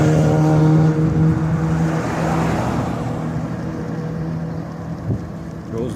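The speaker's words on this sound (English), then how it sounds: "Here comes a crotch rocket." A sport motorcycle, a crotch rocket, passes by on a street. Its loud engine roar builds and fades, washing over steady road noise, with no talk.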